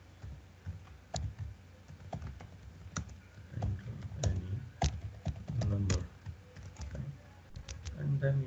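Code being typed on a computer keyboard, with scattered close key clicks and taps at an irregular pace under a low murmur of background sound.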